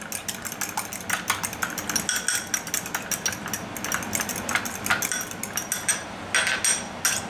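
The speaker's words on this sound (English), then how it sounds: "All you do is take a fork and just beat it together, make your egg wash." Fork beating egg and milk together in a bowl for an egg wash, a quick run of light, clicking taps against the bowl in an uneven rhythm, close and fairly clear, with no voices.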